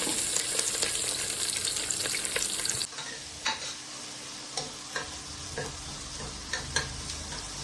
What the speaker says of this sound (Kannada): ಇಲ್ಲಿ ಈರುಳ್ಳಿ ಬೇಯಿಸ್ತಾ ಇದ್ದೀನಿ